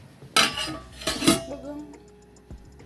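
A metal cooking pot being covered while yam and stew cook, a loud clattering clank of lid on pot followed by a second metallic clink and fainter rattles, close by.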